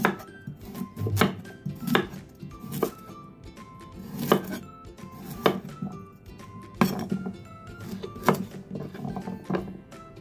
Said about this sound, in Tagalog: Yung carrots after mabalatan, hiwain na po natin